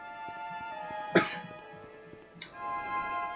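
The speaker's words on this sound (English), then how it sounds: "Sorry if I'm going to be coughing a lot" Two short coughs from a man with a cold, one louder and one softer, about a second apart, heard over steady tonal video game music.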